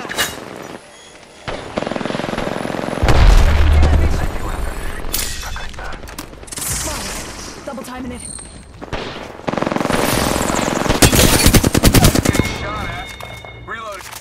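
Rapid bursts of automatic gunfire and booming shots from the Apex Legends video game, loud and close, with dense fusillades and game voices talking in between.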